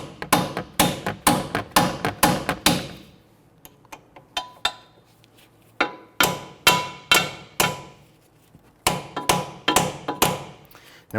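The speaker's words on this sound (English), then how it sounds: "grab my hammer, and I'm going to go ahead and tap this here" A hammer strikes wheel hub bolts on a 2011-2015 Kia Sorento in quick bursts of sharp, ringing blows, with pauses between each rapid series.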